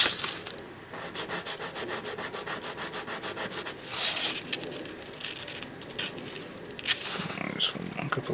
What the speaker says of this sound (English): Do a couple of strokes first. Get a good feel. Make sure you don't actually sand off important detail.